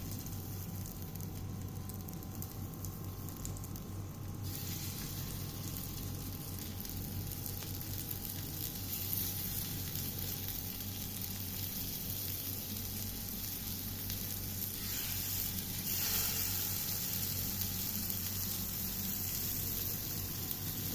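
Seekh kebabs sizzling steadily in hot oil in a pan, a constant dense frying hiss that holds at even loudness throughout, with no talk over it.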